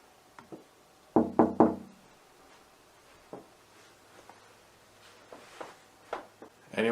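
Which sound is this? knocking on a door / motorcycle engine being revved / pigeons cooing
knocking on a door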